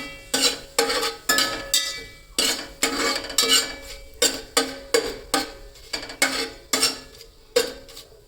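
Whole spices and stone flower are stirred in a pan, heard mainly as a rhythmic series of metal spatula scrapes and clinks against the pan, roughly one every half second, close up.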